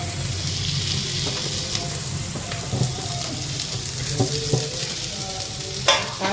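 Mashed potato filling for sandwiches sautés in oil with turmeric, making a steady frying sizzle broken by several distinct clacks and scrapes of a spoon stirring in the pan, with no voices.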